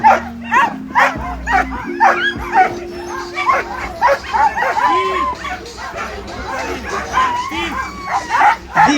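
Sled dogs barking, yipping and whining in excited bursts at the start of a race stage at Megève, a loud, dense chorus of many nearby dogs, with voices in the background.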